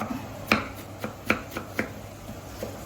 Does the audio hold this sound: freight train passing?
no